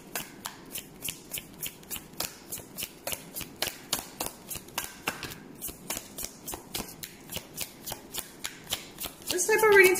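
Tarot cards are shuffled by hand in rapid, rhythmic riffles of crisp papery snaps repeating steadily up close, with a brief rustle at the end.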